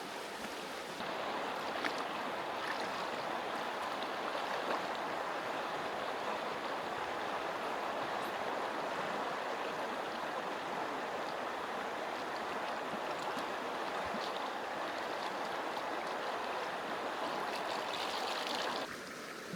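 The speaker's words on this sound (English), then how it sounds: "So now I get to go down to the creek and wash this out." Creek water flowing in a steady, broad rush, continuous and fairly close throughout with no talking.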